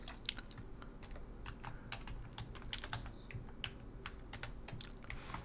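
Fingers typing a new password on a computer keyboard, a quick irregular run of close, crisp key clicks over a low room hum, with no talking.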